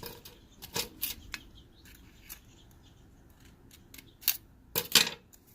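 Scissors snipping through a thin aluminum can to build a DIY alcohol stove, a series of sharp, irregular metallic cuts and clicks, close and fairly quiet, with pauses between bursts.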